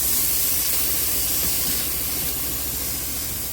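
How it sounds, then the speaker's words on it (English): Garlic, peppers and onions sizzle in a hot pan, a steady loud broadband hiss that carries on without a break and eases off slightly toward the end. "To my hot pan, I'm adding in some garlic."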